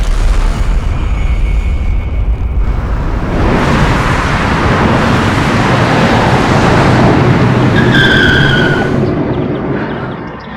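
A car races past at speed in a Crime Patrol police drama scene, a loud sustained roar of engine and rushing wind that swells and holds for several seconds before easing off, with no talking.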